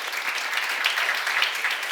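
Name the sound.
congregation applauding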